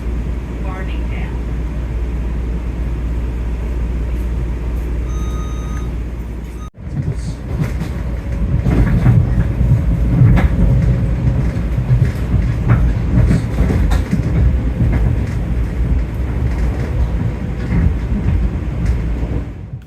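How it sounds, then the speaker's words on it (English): A Long Island Rail Road M7 or M9 electric train riding the rails between Wyandanch and Farmingdale, a loud steady interior rumble with rail clatter and a sharp shift as speed builds, with speech over it. "you're usually riding in the M7 or M9 units, which race up and down these rails like bullets once they reach top speeds."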